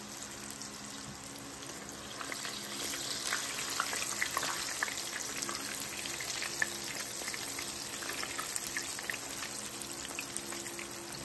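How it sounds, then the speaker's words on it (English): Onion rings frying in oil in a cast iron pan, a steady close sizzle with faint crackles and pops throughout, heard alone with no talking. "we got our last round of onion rings cooking"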